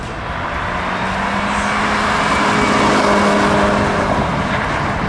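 A BMW 330i test car lapping the Tire Rack test track, its steady engine and road roar holding constant throughout with no voices.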